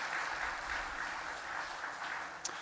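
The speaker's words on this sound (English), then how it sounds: "Perhaps a round of applause right off the bat for our wonderful helpers" A crowd applauds the event helpers at a charity ball and auction, a dense, steady wash of clapping that holds at an even level throughout.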